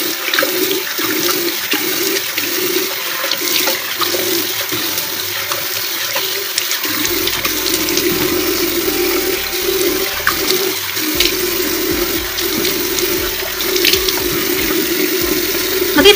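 Water pouring steadily from a tap for face washing, a continuous close splashing and gushing stream with some shifts in flow partway through; no talking.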